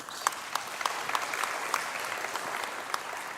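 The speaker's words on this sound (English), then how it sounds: "That also deserves an applause." Steady applause from a conference audience at a provincial investment event, a continuous even patter of many hands with a few sharper claps standing out, heard at a moderate distance and alone.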